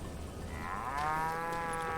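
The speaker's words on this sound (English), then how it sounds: "Cows." Cattle mooing in the Western video game Call of Juarez: Gunslinger, a long, loud, drawn-out low moo with rising harmonic tones that swells after the first second and holds steady over faint ambient game noise.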